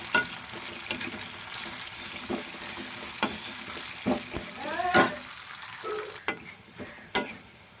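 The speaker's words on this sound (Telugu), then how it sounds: "ఇవి బాగా ఫ్రై అయిన తర్వాత ఒక బౌల్లోకి తీసుకుంటాం." Ingredients for gongura pickle frying in oil in a pan, a steady close sizzle broken by repeated scraping stirs and clinks of the spoon.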